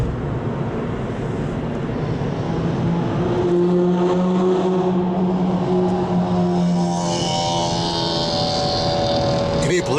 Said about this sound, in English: Can you believe that car there makes all that noise?